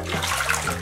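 Water pours and splashes steadily as soap is rinsed off a dog being bathed at home, a close, continuous rushing of water with no talking.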